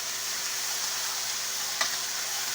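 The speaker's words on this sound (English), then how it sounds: "Rice you already cooked, and put in there bit by bit and stir in." Pre-cooked rice is stirred bit by bit into a simmering stew of green tomatoes and squash, a soft steady sizzle with faint scraping and one brief clink near the end, close up, no talking.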